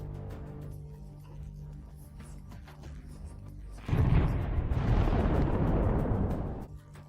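A deep explosion erupts midway through war footage of Russian tanks bursting into flames, a sudden low roar that holds for a few seconds before fading, after a quieter rumbling stretch.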